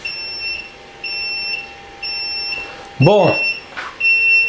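Short, high electronic beeps from a Sunlu ultrasonic cleaner repeat at a steady pace, one every second or so, followed by a brief spoken word and some clattering.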